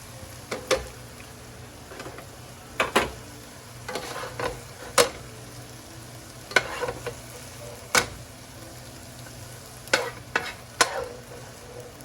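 Ground beef cooks in a pan with a quiet steady sizzle, punctuated by a dozen or so irregular clicks and scrapes of a utensil stirring and breaking up the meat, close by and with no talking.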